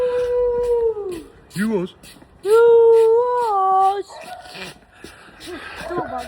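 Dog howling in long, wavering rising and falling tones, with short whimpering yips between them, close and loud, with a person speaking briefly.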